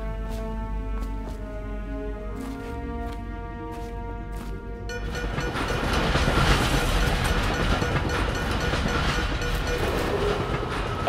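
A train passes in the video game Dishonored, a loud, continuous rumble with rhythmic clickety-clack that swells and grows rougher halfway through, with no talk.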